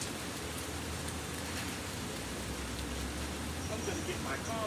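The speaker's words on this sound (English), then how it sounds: "It's raining out." Steady, soft rain hisses outdoors at a homestead garden, an even wash of noise with a low background rumble and no clear talk.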